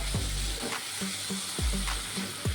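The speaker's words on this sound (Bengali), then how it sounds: "পনিরটাকে দিয়ে একটু মিক্স করে নেব মশলার সাথে" Fried paneer being stirred into a spice mix in a hot pan, with a steady sizzle under repeated scraping strokes of the spoon, close up and without talk.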